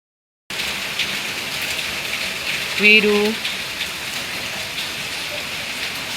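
Heavy rain pours down in a steady, dense hiss that fills the whole clip, with a brief voice calling out partway through.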